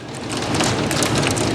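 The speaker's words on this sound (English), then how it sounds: "Thunderstorm." Heavy thunderstorm rain in Sedona, Arizona, hammering down and bouncing off a parked car, a loud, dense, steady downpour with no talk over it.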